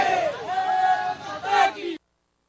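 A celebrating crowd in Pune cheers and shouts together, a dense wash of whoops and raised voices that swells, dips briefly, surges again and then cuts off abruptly.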